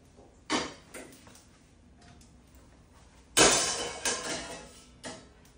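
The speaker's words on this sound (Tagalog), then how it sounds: "Kaka-start pa lang ng day natin, marami na namang hugasan." Dishes being washed in a home kitchen, with a few separate clatters and knocks of plates and utensils spaced across the moment, the loudest burst near the middle, over a quiet background.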